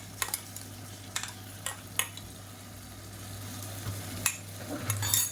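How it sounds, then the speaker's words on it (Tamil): Ginger garlic paste is sautéed with onions in a pan for biryani, giving a low steady sizzle with several sharp clinks and scrapes of a spoon against the pan. "இந்த ஸ்டேஜில் இஞ்சி பூண்டு பேஸ்ட் வந்து சேர்த்துக்கலாம்"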